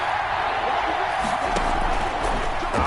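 Stadium crowd noise in a video game football broadcast builds ahead of a big third down, a steady roar of cheering with a few sharp whoops rising over it.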